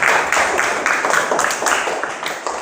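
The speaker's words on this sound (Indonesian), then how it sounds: "Kita kasih tepuk tangan." Students in a classroom applaud a group, giving a steady, fairly loud spell of mixed hand claps with no talking over it.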